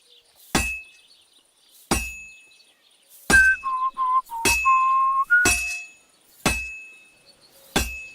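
Hammer strikes on a sword at an anvil in the video game Kingdom Come: Deliverance 2: sharp metallic clangs ringing out at irregular intervals, about nine blows in all, with a shrill whistling tone between some of them.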